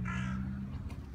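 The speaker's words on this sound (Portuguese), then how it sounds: "Como tem corvo aqui. Pomba e corvo." A crow caws in a Manchester park, one harsh drawn-out call heard fairly close and clear, then a quieter trailing note over faint outdoor background.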